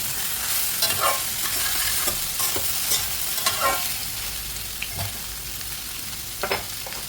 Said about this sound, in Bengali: লাউ কেটে রেখেছিলাম, সেই লাউটা দিয়ে দেবো, দিয়েও একটু ভালো করে নাড়িয়ে নিতে হবে।